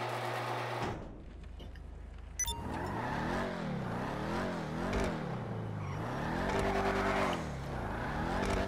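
In GTA V, the Dominator GTX muscle car's engine revs repeatedly after a brief quiet start, its pitch rising and falling in wavy sweeps as it accelerates and shifts, loud and continuous.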